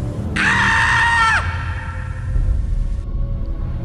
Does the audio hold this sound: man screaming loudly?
yes